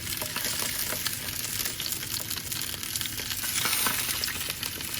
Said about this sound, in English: pan's hot, oil's hot. Stick your bangers in.